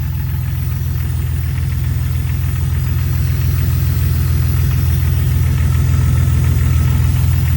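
A 2000 Jeep Cherokee XJ with the 4.0L engine idles steadily and close, a low, even rumble with a faint rhythmic knock that runs unchanged from start to finish, with no talking.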